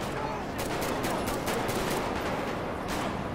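Rapid bursts of gunfire in GTA 5 with the LSPDFR police mod during a gang shootout, dense overlapping shots over steady game noise, with a voice talking over it.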